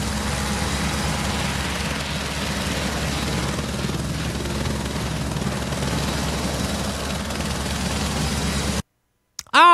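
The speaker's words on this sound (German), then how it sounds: "Boah, Helikopter, Junge." A helicopter in the Assetto Corsa Competizione racing game gives a steady, loud rotor and engine drone that holds for about nine seconds, then cuts off abruptly.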